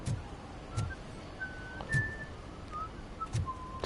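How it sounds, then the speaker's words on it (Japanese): Someone whistles a slow theme-song melody of sustained, sliding notes in the video game RoboCop: Rogue City, with soft background noise and a few low thumps. "その口笛テーマソングじゃねえかよ。"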